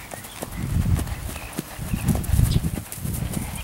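A horse's hooves clip-clop steadily on the ground in an outdoor sale setting, a continuous uneven beat at moderate distance with some wind noise.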